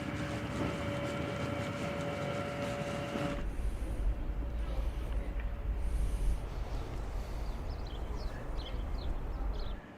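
An 11-carriage Pendolino electric train hums and rumbles steadily as it rolls into Penrith station, a high whine fading into a broad low roar of carriages passing close by.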